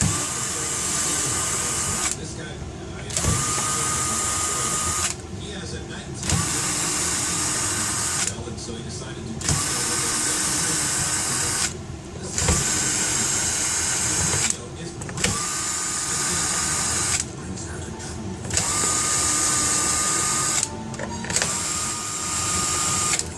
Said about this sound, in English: Let's remove the 13 screws that are on the bottom here.